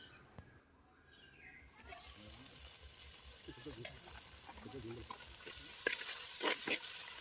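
Tomatoes stewing in a covered pan for Nellore fish curry, a sizzle that swells to a louder hiss toward the end, with a voice and faint bird calls in the background.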